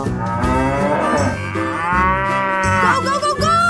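A cow in a 3D animal video game gives a long, loud, drawn-out moo that fills the whole stretch, layered over steady game music with no talking.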